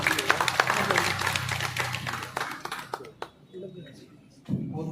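Crowd at a Bahujan Samaj Party rally breaks into dense, loud clapping that fades away after a few seconds, leaving a quieter stretch of faint murmur and scattered noise.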